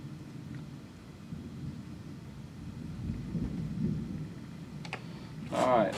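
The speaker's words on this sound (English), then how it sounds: "Still thundering outside, I can hear it." Low, distant thunder rolls outside, heard from indoors while work goes on during a transmission swap, followed near the end by a few close clicks and taps.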